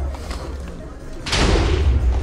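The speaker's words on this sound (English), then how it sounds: "Oh, and it looks like a targeted explosion will do it." A Minecraft explosion erupts partway through, a loud, sudden, rumbling blast that lingers, following a stretch of low, busy game noise.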